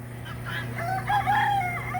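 A backyard rooster crows once in a long rising-and-falling call, fairly close and clear, with clucking fowl nearby and a steady low mechanical hum running underneath.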